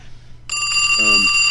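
A telephone rings loudly and close during a live talk show, a bright electronic trill that starts abruptly and continues steadily over a low background hum.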